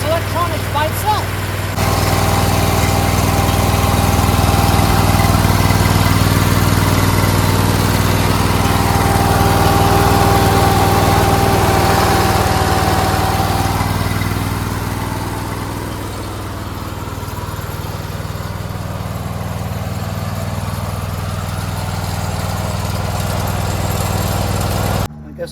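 Engine of a repowered Toro Z-Master zero-turn mower running steadily, a loud continuous drone with a steady low hum that eases slightly partway through and holds to the end.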